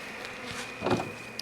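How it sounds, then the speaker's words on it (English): A close, steady buzz of honeybees at a queen-rearing hive drones continuously with no voices, swelling slightly for a moment near the end. "just putting the bees back"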